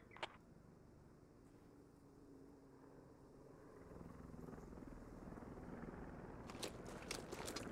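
A helicopter in the Squad combat game, a faint distant rotor drone that grows louder and closer partway through, with a few sharp clicks and cracks near the start and end.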